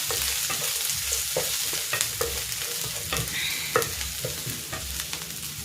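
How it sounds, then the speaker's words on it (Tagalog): Garlic and onion sautéing in cooking oil in a pan, with loud sizzling, crackling and scraping stirs at irregular intervals and sharp clinks of a utensil, heard close by and with no voices. "Gigisa ko na rin tong sibuyas."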